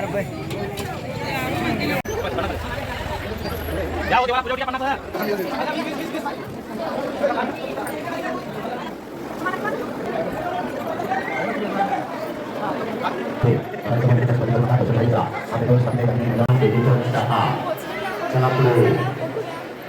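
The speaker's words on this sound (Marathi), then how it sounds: "तुम्ही इथे गर्दी बघू शकता" Steady crowd chatter and hubbub outside the Swami Samarth temple at Akkalkot, a continuous babble of many voices nearby with some louder passing voices, no single talker standing out.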